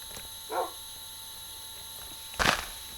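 Two brief dog barks in a survival video game, one soft and one louder, sound over a faint steady electronic hum.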